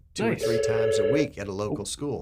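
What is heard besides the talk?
phone ringing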